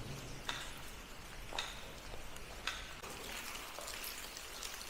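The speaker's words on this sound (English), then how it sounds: "I'm hoping you can see the almost rain coming from the ceiling." Water drips from the ceiling of a dark, drenched tunnel beneath Halifax like steady rain, with a constant wet patter and several sharper drops landing at roughly one-second intervals, close by and fairly quiet.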